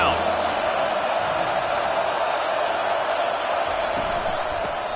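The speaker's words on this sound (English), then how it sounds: "Decibels rising as the crowd gets behind this defense on third down." Stadium crowd roaring steadily throughout a third-down defensive stand in an NCAA college football video game, Clemson against Alabama, a dense continuous wall of cheering with no break.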